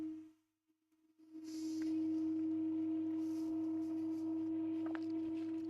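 A machine hums steadily and fairly loudly in the background while a 3D printer is being worked on, a constant low drone that sits under the whole stretch after a brief quieter gap at the start.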